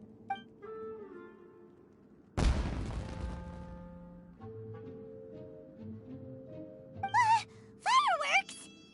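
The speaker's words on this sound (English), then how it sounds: "It sounded like fireworks." Fireworks burst in the video game Genshin Impact: one loud sharp explosion with a crackling tail, quieter game sounds around it, and brief character vocalizations near the end.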